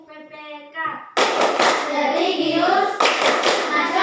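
A class of elementary school children performs the rhythmic tepuk PPK clap together, loud patterned group clapping with children's voices chanting over it after a short spoken lead-in.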